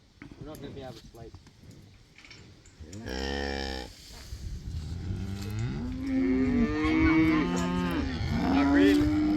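A cow gives deep, drawn-out bellows close by, one short call followed by several long, wavering moos that grow louder toward the end, with other cattle sounds and faint background noise around them.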